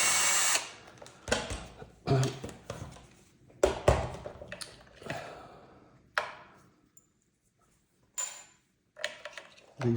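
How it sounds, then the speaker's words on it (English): A power screwdriver backs T15 screws out of a Bang & Olufsen Beolab 4000 speaker, giving several short bursts of whirring separated by pauses, fairly close and moderately loud. "So you can remove these four screws"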